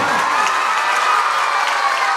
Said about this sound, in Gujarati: ખાલી તાળીઓના ગડગડાટથી બતાવીશું